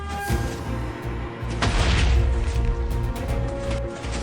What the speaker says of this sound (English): That explosion just terrified me.